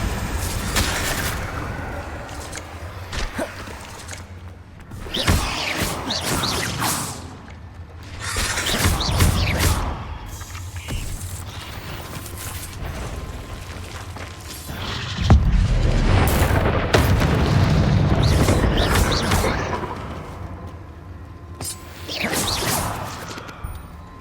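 Confringo blasts in a Harry Potter video game sound as repeated whooshing bursts and crashing explosive impacts, several separate loud hits spread over the span with rumbling tails between them.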